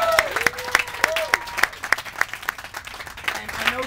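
Applause for the crew at a TV production gathering, steady rapid clapping from a small group, close and lively, with voices chattering underneath.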